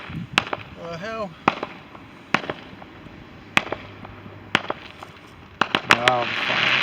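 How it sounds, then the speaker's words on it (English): Bonfire night fireworks go off in a run of sharp bangs and crackling pops, some near and some farther off, spaced irregularly with a denser cluster toward the end, while people talk between the blasts. "Oh, the fireworks going off."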